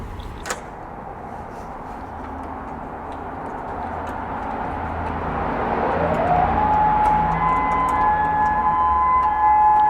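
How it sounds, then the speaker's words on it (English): A distant town warning siren, one of several being tested, slowly rises into a steady wailing tone over constant traffic rumble and outdoor background noise, growing louder toward the end. "Our town's like testing different sirens"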